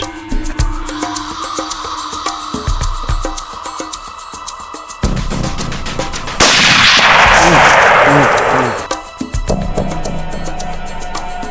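One loud rifle shot from a Musgrave Field Deluxe .308 on a duiker hunt in the bush cracks out mid-clip and rolls away in a long, rumbling echo, set against steady outdoor background noise.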